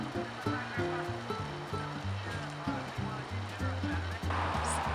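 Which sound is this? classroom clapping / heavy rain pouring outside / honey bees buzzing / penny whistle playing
heavy rain pouring outside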